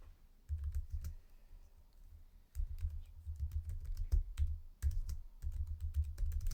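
Keys clatter on a new keyboard for a Mac mini, close and quiet, in irregular bursts of rapid taps separated by brief pauses.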